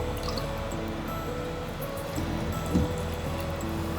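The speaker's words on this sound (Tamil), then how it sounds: "எல்லாம் சேர்த்து வதக்கிட்டு நம்ம இதோட கொஞ்சம் தண்ணி விட்டு கொதிக்க வைக்கணும்" Water poured into a pan of greens sautéed with cumin powder and turmeric, a steady liquid trickle with faint drips over a continuous background hiss, close and moderately loud with no talk.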